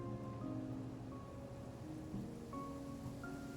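Rain falls during a storm in the video game Genshin Impact, a steady, soft, even hiss of rainfall, fairly faint, with no talking over it.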